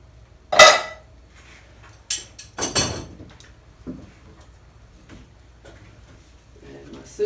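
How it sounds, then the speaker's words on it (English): An iron cooking pot is set down on a stone hearth with an iron pot lifter and its lid is taken off. Several sharp metallic clanks and scrapes come close and separate, followed by softer knocks, with quiet surroundings. "I'm using my pot lifter to lift it down onto the floor, the hearth. And take the lid off."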